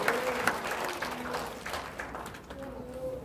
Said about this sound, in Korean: 하나님께 감사 영광의 박수 올립니다